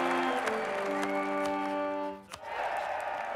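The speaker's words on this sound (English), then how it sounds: "I love it when they cheer like that." A crowd-cheer sound effect in the strategy game Europa Universalis 4 plays over a held musical chord that dips briefly, followed by a burst of broad, noisy cheering toward the end.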